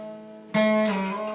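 A single guitar slide riff, one sharp plucked attack with notes gliding and ringing out clearly, played alone.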